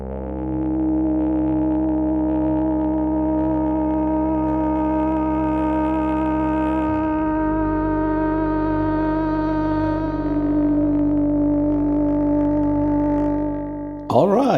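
Yamaha EX5 synthesizer playing an FM-style tone built from samples: a sustained, buzzy harmonic drone whose pitch shifts partway through, ending abruptly.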